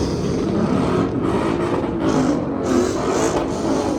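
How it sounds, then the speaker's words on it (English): Cars at an outdoor car show make a steady, fairly loud engine roar with mild revving swells throughout, no talk. "There appears to be a car show going on here."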